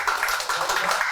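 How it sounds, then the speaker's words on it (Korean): Applause from an audience at a Catholic social economy symposium: a steady, close wash of many hands clapping at once, with no break. "다시 한번 큰 박수 부탁드리겠습니다"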